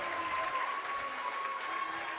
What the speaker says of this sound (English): Even the Fort LaBeouf fans are cheering and everything.